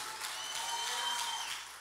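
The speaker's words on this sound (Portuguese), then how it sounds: "eu sei que ele merece uma salva de palmas" Brief, fairly soft applause from a congregation at a church discipleship gathering, a continuous wash of clapping that lasts under two seconds without a break.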